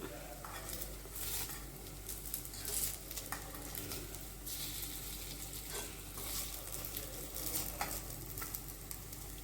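An aval (flattened rice) cutlet fries in a pan with a continuous crackling sizzle and a few spatula scrapes and taps on the pan, heard close with no talking.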